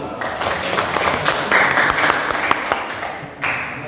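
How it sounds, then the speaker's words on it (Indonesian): Applause in a classroom for a student answering about atomic theory: a short, dense burst of many hands clapping close by. It carries on steadily for several seconds before easing off. "Tepuk tangan untuk Abu."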